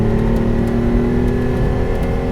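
The six-cylinder engine of a 1975 Lancia Stratos HF Group 4 works car runs close by, heard from the cabin as a loud, steady, bass-heavy drone with a slight rising rev.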